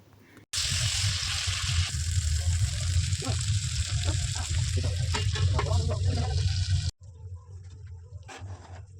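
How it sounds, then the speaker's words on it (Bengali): Chicken pieces frying in butter in a covered pan over a low-medium gas flame give a steady, close, broadband sizzle for about six seconds with faint stirring clicks, then drop abruptly to a quieter simmer. "এরপর চিকেনগুলোকে দিয়ে গ্যাসটা লো টু মিডিয়াম ফ্লেমে ঢাকা দিয়ে দিয়ে এটাকে ভাজতে হবে"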